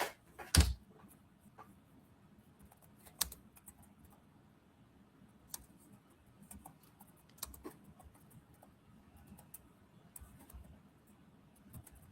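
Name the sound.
typing a search query on a computer keyboard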